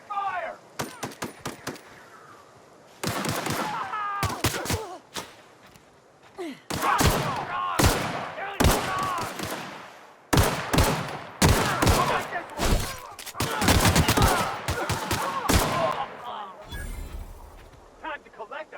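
Rapid bursts of gunfire erupt in a sci-fi shootout in the first-person RPG The Outer Worlds, with volleys of shots and automatic fire loud and close, repeating in clusters across the scene while voices shout over the shooting.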